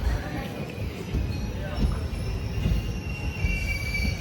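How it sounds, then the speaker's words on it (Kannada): A train pulls into Gubbi railway station with its wheels squealing in a thin, sustained screech over a low rumbling of rolling stock. Voices murmur faintly in the background. "ಗುಬ್ಬಿ ರೈಲ್ವೆ ಸ್ಟೇಷನ್ಗೆ ಗಾಡಿ ಬಂತು"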